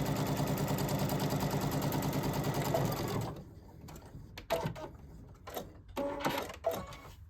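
A sewing machine runs steadily, stitching a jacket sleeve seam with a fast even whir for about three seconds, then stops and gives way to scattered handling clicks and short bursts of rustling fabric.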